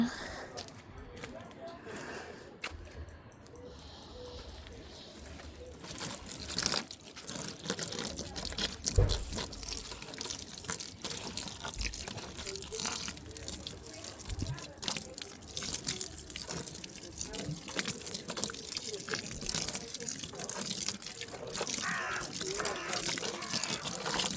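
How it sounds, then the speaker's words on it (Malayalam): Water poured from a container onto a potted plant in a sunny garden, with soft splashing and trickling running throughout, faint and under quiet talk. "നമ്മുടെ ആനക്കുട്ടനെ വെള്ളം ഒഴിച്ചു കൊടുക്കുക"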